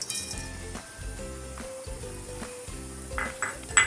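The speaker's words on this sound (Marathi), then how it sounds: "खोबऱ्याचे जे काही स्लाइस तयार केलेले आहेत त्या आता तेलामध्ये फ्राय करून घेणार आहोत." Steady sizzling of coconut slices frying in hot oil over low heat, with occasional light clinks of a utensil against the pan; no voices.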